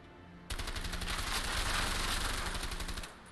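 A sustained burst of rapid automatic gunfire from the video game A Way Out starts suddenly and runs loud and dense for about two and a half seconds before cutting off.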